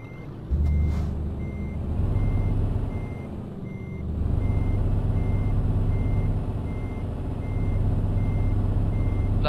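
A Scania truck in a truck driving simulator game reverses with a steady series of evenly spaced reversing beeps over a low diesel engine rumble that dips and swells, with a brief air-brake hiss near the start and no talk.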